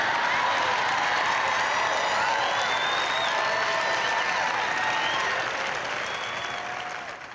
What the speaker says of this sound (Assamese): আমাক আজি ৰাতিপুৱা এটা ডাঙৰ হাত চাপৰি দিয়া